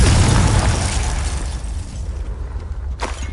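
A Confringo blasting curse exploding in the Hogwarts Legacy video game: a loud, booming burst that rolls into a fading rumble, followed by a short sharp crack near the end.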